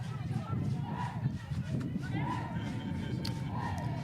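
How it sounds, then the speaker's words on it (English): Zimbabwean fans cheering at a women's football match against Botswana, a steady crowd roar with scattered shouts rising and falling across the whole stretch, with no one speaking up close. "You can see the Zimbabwean girls there cheering for their..."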